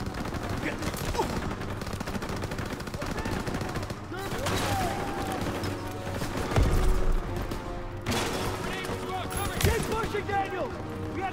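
Rapid gunfire in the World War II shooter Call of Duty WWII, bursts of automatic fire and single shots crackling throughout, with a player talking over the game sounds.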